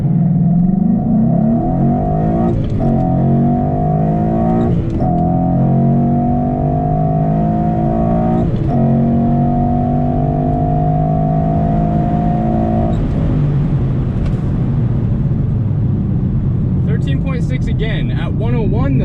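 A 2014 Mustang GT fitted with SVE Series 3 wheels accelerating hard on a quarter-mile run, its loud engine note climbing steadily through the gears with brief breaks at each shift, close and sustained.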